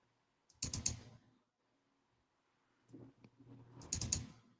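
A computer mouse clicks quietly at a desk in two clusters of rapid, crisp clicks separated by a few seconds of near silence.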